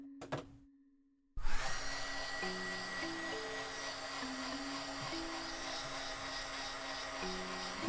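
Hair dryer blowing steadily on a thin piece of cork, a loud continuous whoosh starting abruptly after a brief quiet moment and holding at constant strength.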